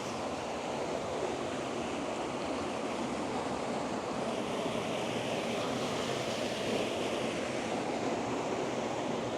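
A waterfall in a canyon gives a steady, dense roar of falling water that holds constant throughout, heard up close with no voices.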